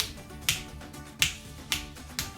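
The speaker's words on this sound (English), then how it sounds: "I'm trying to work on my snaps to make it sound cool" Four crisp finger snaps, spaced unevenly about half a second to a second apart, close and clear against a faint background hum.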